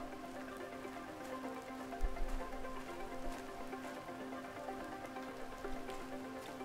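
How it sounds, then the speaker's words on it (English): Rain falling in The Planet Crafter video game, a soft continuous patter of drops on surfaces, faint and steady with no talking. "So I just stand out here in the rain."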